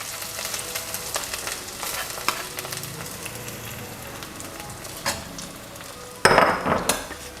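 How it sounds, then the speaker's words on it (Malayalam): Tempered mustard seeds with curry leaves are poured from a hot pan into a homemade lime pickle, giving a sudden loud sizzling burst that fades over a second, after quieter kitchen clatter and stirring. "കടുക് പൊട്ടിച്ചത് നമുക്ക് ഇതിനകത്തേക്ക് ഇങ്ങനെ ഒഴിച്ചു കൊടുക്കാം."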